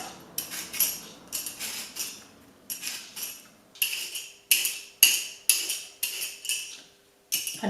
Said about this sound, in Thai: ขั้นตอนแรกเรามาปอกเปลือกก่อนนะคะ